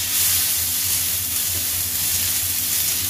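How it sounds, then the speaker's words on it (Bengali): Chopped tomatoes sizzling in a hot pan while being stirred, a loud, continuous crackling hiss with a low rhythmic scrape of stirring underneath. "এর মধ্যে এই যে কাটা টমেটো গুলো দিয়ে দেবো। এবার টমেটো গুলো দিয়ে ভালো করে নাড়াবো এটাকে"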